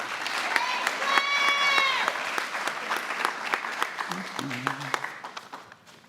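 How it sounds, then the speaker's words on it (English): Applause from the audience at a Beaver Dam FFA awards ceremony honors Claire. The clapping runs steadily throughout, a voice sings or calls out early on, and people talk over it. "Let's give one more round of applause to Claire."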